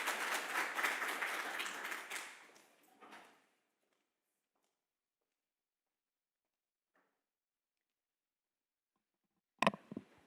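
Audience applause at a South African panel discussion on youth employability, a dense round of clapping for about three seconds that thins and fades into silence, followed later by a single sharp knock.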